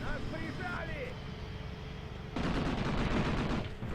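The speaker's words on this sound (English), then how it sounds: "Good shooting, good shooting." Gunfire from the war game Graviteam Tactics: Mius Front in a border-war battle with Chinese soldiers, a low rumbling background of distant shots and engine noise, swelling into a louder burst of rapid fire partway through.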